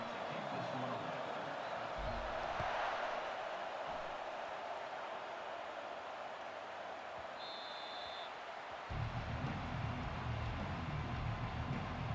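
Stadium crowd roar from a college football video game before a Missouri kickoff, a steady loud wash of cheering throughout with a brief whistle-like tone, swelling with deeper rumble near the end.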